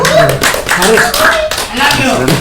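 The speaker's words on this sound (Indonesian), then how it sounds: "Oke, tepuk tangan deh ya, tepuk tangan ya" Audience members clap at a film trailer release press conference for Rumah Aya: a short, close burst of hand claps mixed with voices speaking over it.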